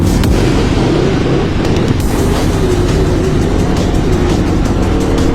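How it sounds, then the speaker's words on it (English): A Porsche GT3 sports car passes in rush-hour traffic, its loud, steady engine roar filling the scene with broadband road noise and no voices. "There's a Porsche GT3, damn son."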